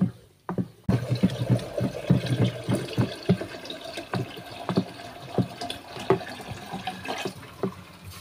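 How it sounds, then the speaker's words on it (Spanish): A litre of cold water is poured into a soap mixture to make a multipurpose liquid degreaser for dishes and clothes. A steady, splashing pour runs for several seconds after a short pause at the start. "voy a agregar 1 litro de agua fría"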